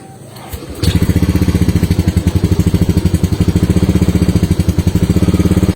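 A motorcycle engine cold-starts after a brief crank, catching with a sharp burst, then settles into a loud, steady, close-up idle with a rapid even chugging pulse throughout.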